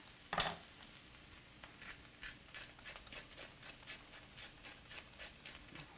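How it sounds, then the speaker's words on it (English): Minced ginger, garlic, carrots and cabbage sauté in a pan with a soft, faint sizzle and scattered stirring scrapes, one sharper clack near the start, no talk. "sauteing some ginger and garlic, which have been minced."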